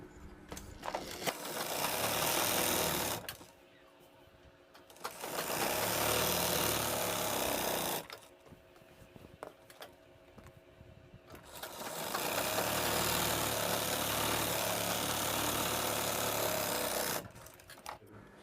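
A sewing machine runs in three sustained whirring bursts while stitching a seam on a Pakistani salwar, with quiet pauses between runs and no talking.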